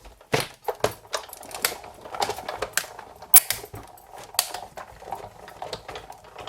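A die-cutting machine feeds a stack of cutting mats through its rollers with steady mechanical clicking and whirring, close and fairly loud, with sharp rattles and knocks along the way and no talking.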